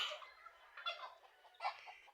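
Turkeys on a small farm calling nearby in three short bursts of gobbling clucks, fairly faint, with quiet gaps between.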